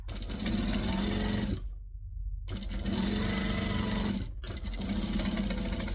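A sewing machine runs steady stitching and back stitching through fabric in two close, continuous bursts split by a short pause, then starts again near the end, with no talking.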